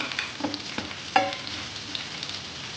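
Cumin seeds fry in a little oil in a pan for a spicy garlic relish, a quiet, steady sizzle with a few light stirring scrapes and one sharper clack, heard close but faint.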